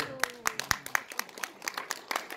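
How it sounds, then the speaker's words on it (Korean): A few audience members clapping at a press center lecture on North Korea's peace offensive, distinct individual claps in a fairly regular rhythm, close and moderately loud, with a voice faintly present. "이럴 때 박수가 나와요"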